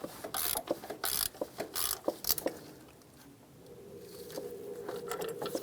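A ratchet clicks in quick bursts while snugging bolts on a cooling hose flange of a 1998-2010 Volkswagen Beetle, close and crisp, followed by a quieter stretch with faint background hum.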